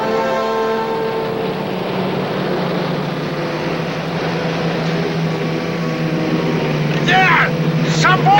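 Motorboat engines drone steadily with a strong harmonic hum across the water, growing a little louder toward the end.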